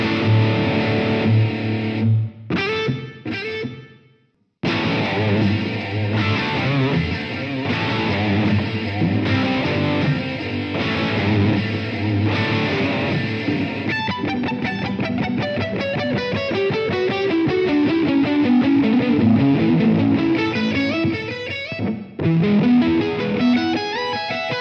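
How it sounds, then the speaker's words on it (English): An electric guitar played through a Digitech RP1 multi-effects unit on a delay preset gives distorted notes and chords that pile into layered, repeating echoes, loud and continuous apart from a brief gap near the start. "Fun with delay. Ruffy, eh? Layered echoes."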